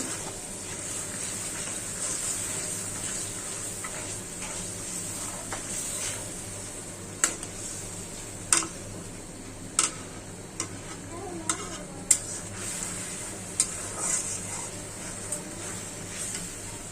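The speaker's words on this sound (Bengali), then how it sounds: "মশলাটা কষায় নিই।" Spices with turmeric, chili, ginger-garlic paste, green chili and garam masala fry in a pan, giving a soft steady sizzle. Sharp scraping clicks of stirring come in irregular bursts in the second half, with faint background voices.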